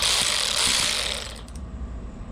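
A loud, buzzing mechanical whir of a budget SEESII cordless ratchet running steadily, then cutting off and leaving a low background hum.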